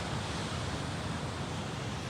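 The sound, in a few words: ocean waves at Myrtle Beach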